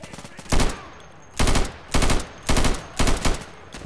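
Automatic rifle fire in a video game, five sharp bursts in quick succession, loud and close, as the shooter empties a full magazine of an SKS-style gun.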